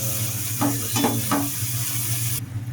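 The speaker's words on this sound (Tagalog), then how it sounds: "Dito nagisa na ako ng bawang sibuyas." Garlic, onion and tuna sautéing in a pan give a steady, close sizzle with a few soft scraping stirs, with no talking.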